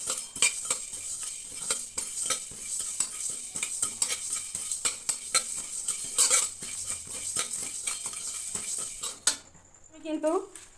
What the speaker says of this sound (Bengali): আমি সমস্ত মশলাগুলো ভেজে নিয়ে আসছি